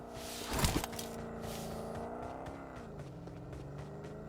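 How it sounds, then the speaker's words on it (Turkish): Car approaching in the mobile battle royale game PUBG Mobile, a steady engine drone whose pitch shifts as it nears, heard alongside a brief knock and clatter early on, with no talk. "Oo araba geliyor."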